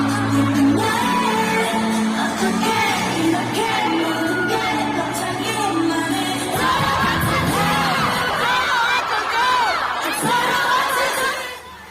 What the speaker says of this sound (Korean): 필리핀 관중들의 에너지 넘치는 함성과 귀가 먹먹할 것 같은 비명